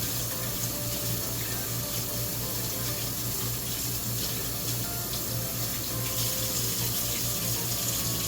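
Cold tap water runs steadily and noisily into a sink, splashing over udon noodles in a strainer, with a constant low hum underneath.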